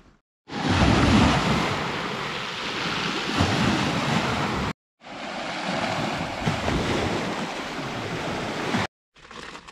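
Sea waves breaking near a lagoon, a steady loud wash of surf with wind noise, running unbroken for several seconds, cutting out briefly, then resuming.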